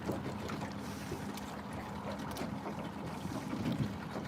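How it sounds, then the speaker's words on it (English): A big outboard motor idles at the back of a fishing boat pulling planer boards near a bridge: a steady low drone mixed with wind buffeting and water noise, continuous and fairly close. "I got my big motor idling back there trying to charge the battery up"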